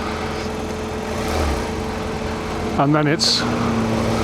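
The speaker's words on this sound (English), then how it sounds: "Just a few minutes now of riding this magnificent motorcycle." A motorcycle engine runs steadily while being ridden, a low droning hum beneath the rider's voice, with a brief pitch sweep as the engine revs partway through.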